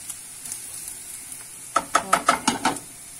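Onion and carrot fry in vegetable oil in a pan, giving a soft, quiet sizzle that turns into a run of six or seven sharp, rhythmic scraping stir strokes close by.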